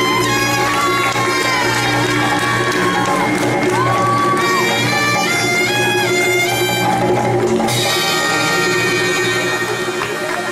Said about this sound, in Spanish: El fuerte aplauso para ellas las dos.